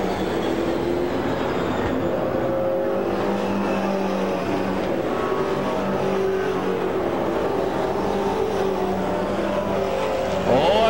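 Pro Stock race cars in a final at the Autodrome Granby oval track, engines roaring steadily and continuously at a distance with a loud broadband drone throughout, no one talking.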